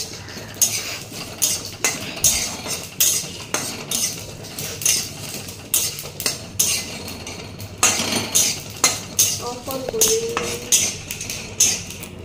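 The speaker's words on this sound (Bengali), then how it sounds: "এবার সব কটা মশলা ভালো করে ভেজে নিচ্ছি" Spices including fennel and panch phoron dry-roasting in a pan, loud rhythmic metal clinks and scrapes of a spatula repeating roughly every second, close and clear with no speech.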